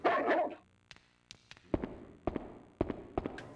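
A dog in the survival horror game Haunting Ground barks in a series of sharp, separate woofs after a brief rustle, moderately close and alone, with no talking.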